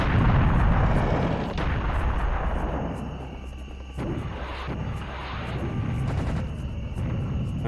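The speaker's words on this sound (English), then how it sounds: "get that cannon ready and just blow that thing up" A cannon fires repeatedly at a lava golem in Serious Sam: The First Encounter, with heavy booming blasts and rumbling explosions over a constant low roar, some hits sharper and more distinct than others.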